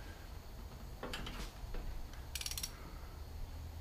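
Socket wrench ratcheting on bolts of a 1973 Jeep CJ5, a few faint quick clicking bursts over a low background hum, very short and fairly quiet.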